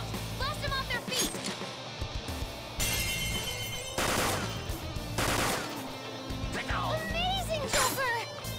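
Gunfire in Persona 5 Royal: several sharp bursts of shots crack through a busy battle mix with music and game voices.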